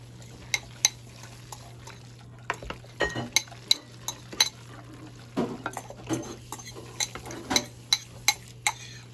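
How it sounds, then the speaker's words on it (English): A utensil stirs bacon and an onion and garlic mixture into pasta carbonara in a pot, giving repeated sharp clinks and scrapes in an uneven rhythm over a steady low hum. "we're gonna add the onions and garlic mixture into the pastas while we're stirring it in, and we're gonna add the bacon in as well"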